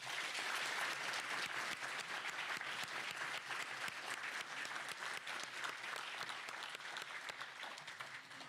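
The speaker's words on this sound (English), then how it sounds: "Please join me in giving Deputies Berm and Borsick a round of applause." Audience applause fills a graduation ceremony for a sheriff's office jail class, with steady, dense clapping from a large crowd at fairly low level, continuing without a break and fading slightly at the end.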